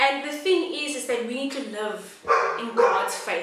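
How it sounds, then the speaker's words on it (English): A dog barks somewhere nearby, its barks mixed into steady talk from a person speaking close up, with louder bursts toward the end. "Sorry for the dog."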